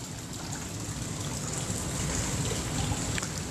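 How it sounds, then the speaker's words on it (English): A water fountain in an Asian garden at a Maldives resort: a soft, steady splashing and trickling wash that stays constant throughout, with no voices. "See, beautiful Asian garden with a water fountain."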